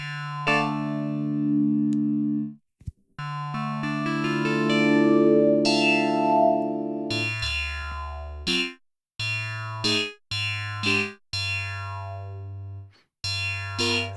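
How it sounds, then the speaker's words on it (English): DiscoDSP Discovery synth, a Nord Lead 2 emulation, playing sustained and then short staccato notes through its distortion effect, producing buzzy, harmonically rich tones with gliding pitch sweeps and brief gaps between phrases. "some distortion thing here with a few different distortion types"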